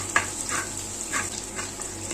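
Soft sizzling of ginger and garlic frying in oil, with a few scraping stirs breaking through at intervals, close and moderately loud.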